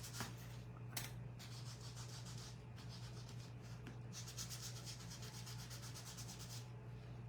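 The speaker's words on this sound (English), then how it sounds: "just give them a little sanding" Steady scratchy rubbing of sandpaper on wood, continuous and close, with a low constant hum underneath and no voices.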